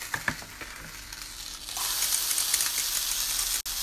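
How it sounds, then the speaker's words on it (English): Steady sizzling and crackling of sticky dough pancakes frying in a pan, growing louder and denser partway through, with a few soft clicks near the start. "it's time to do some frying"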